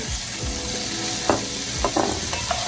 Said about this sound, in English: And I'm gonna saute this.